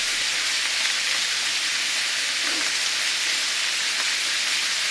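Rough-cut vegetables sweating in a pan for Sunday gravy give a steady, even hiss and sizzle, close and continuous throughout with no talking.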